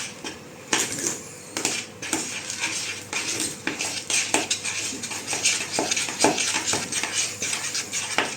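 Spoon scraping and clinking in a bowl as a potato patty mixture with Gruyère, chili and pepper is stirred, with irregular close clatters and scrapes repeating throughout.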